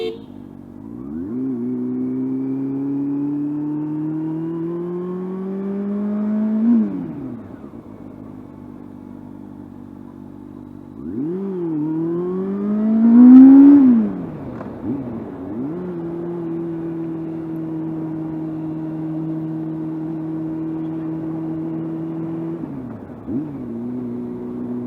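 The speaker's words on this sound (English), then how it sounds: "on the overrun, it has that typical 4-cylinder rumble" A four-cylinder car engine drones and rises through several revving pulls, then falls back into a lower rumble as the throttle closes on the overrun, steady and close with no talk.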